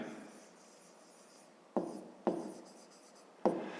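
Pen or chalk strokes writing out a math equation for a fifth-grade word problem: a soft continuous scratch followed by three sharp tapping strokes, each trailing off, close and quiet with no speech.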